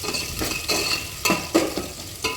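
Chopped onions and tomato fry in a pan with a steady sizzle, broken by several distinct scraping strokes of a spoon stirring at a fairly regular pace, up close.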